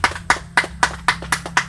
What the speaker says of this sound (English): let's give a round of applause, class